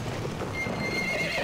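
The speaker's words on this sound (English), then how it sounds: "oh, hey, a horse." Horse in the Battlefield 1 video game, hooves clip-clopping at a gallop and a whinny rising over a busy battlefield din of wind and noise, loud and close throughout.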